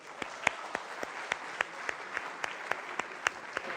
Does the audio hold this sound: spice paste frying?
no